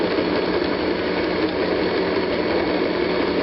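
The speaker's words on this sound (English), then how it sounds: "I'm turning my mixer on low to mix all that up because of that powdered butter" An electric mixer runs on low through banana nut bread batter made with powdered butter, giving a steady, loud, close mechanical whir that holds evenly throughout with no voices.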